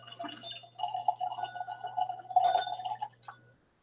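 Whisky glugs and splashes unevenly from the bottle, wet trickling and drips running for about three seconds before stopping, close and fairly quiet.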